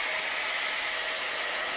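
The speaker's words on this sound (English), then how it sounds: "Press the little button, and it's going to make a bit of a noise." A tiny Flextailgear battery-powered air pump deflates an air pillow, giving a steady, hissing, high-pitched motor whine with rushing air that stays constant and close throughout, no voices.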